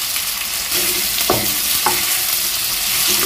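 Fried pointed gourd drops into a pan of prawn curry masala and sizzles loudly and steadily up close, with a few quick stirring scrapes over the continuous frying hiss.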